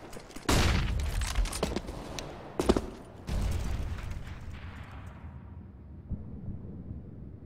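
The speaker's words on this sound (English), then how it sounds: "Throwing flashbang." Sharp flashbang grenade blasts and gunfire bursts in a tactical shooter video game, several loud cracks with echoing decay and a quieter tail.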